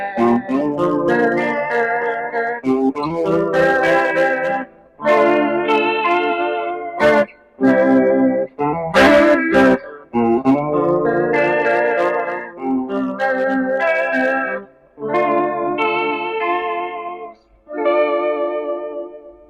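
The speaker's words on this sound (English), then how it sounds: "Put up the reverb here." An electric guitar played through a Madhura analog chorus pedal with the reverb turned up plays sustained notes and chords drenched in reverb, with a few sharp percussive strums and brief pauses between phrases.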